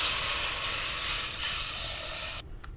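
Hot pot sizzles with a loud, steady steaming hiss as water hits it, cutting off abruptly near the end.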